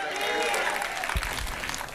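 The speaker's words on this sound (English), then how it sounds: "Give yourselves a round of applause." Comedy club audience applauding, a steady wash of clapping and crowd noise heard alone throughout, with a few louder thumps partway through.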